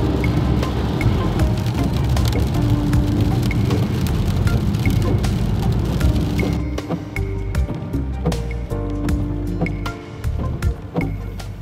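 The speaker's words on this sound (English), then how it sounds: "it's raining." Steady rain patters on a surface in London with scattered louder drips and taps, a constant wet hiss throughout.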